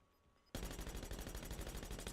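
Rapid, continuous automatic gunfire from a video game weapon in a battle-royale match. It bursts in suddenly after a quiet start and keeps going loud and dense, shot after shot in a steady rattling stream.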